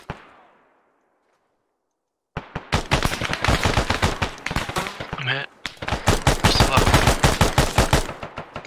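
Automatic gunfire in the military video game Arma, a sharp lone shot fading into silence, then long rapid bursts of loud, close shots with a brief pause before firing resumes.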